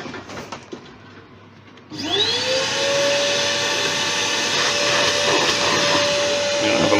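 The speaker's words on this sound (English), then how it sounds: "we'll hoover that out" A vacuum cleaner starts up loud and close, hoovering wood shavings out of the hollowed belly of a Thai redwood vase on a lathe, then runs as a steady, unbroken whine with no talk.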